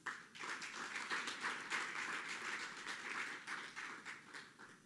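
Applause breaks out for the top mathematics learners at a matric results ceremony, a dense, steady wash of many hands clapping that holds evenly for several seconds with no voices over it.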